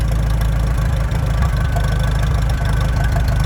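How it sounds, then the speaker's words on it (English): An old machine's engine idles as it runs out of fuel, giving a loud, steady low chugging rumble with a knocking pulse that continues throughout, with no talk. "Already the motor's running out of fuel."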